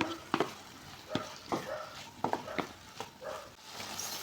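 Chicken fried rice sizzles in a pan with vinegar added, while a spoon scrapes and stirs in irregular strokes. A soft frying hiss runs under the sharp clinks, fairly quiet and close.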